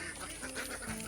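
Farm ducks quack in a short burst at close range, a few overlapping calls over steady background noise.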